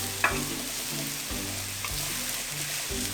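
Roast beef fries in a pan with a steady sizzle, a constant crackling hiss, with a few soft clinks of a utensil near the start.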